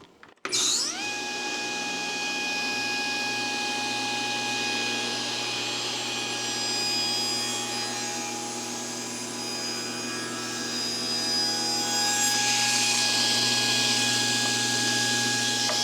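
A table saw spins up abruptly and runs with a steady, loud whine as it cuts wood, with no dust collector running; the motor tone holds nearly constant for about fifteen seconds, brightening slightly toward the end.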